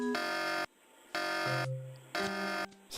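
Alarm in the 1996 adventure video game Tex Murphy: The Pandora Directive, loud harsh buzzer blasts about half a second long sounding three times in an even on-off rhythm, with short low tones in the gaps.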